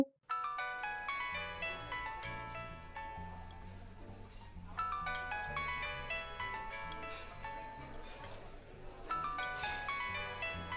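Electronic ringback melody of a phone call waiting to be answered, a bright repeating tune that plays steadily and fairly loud with short pauses between phrases.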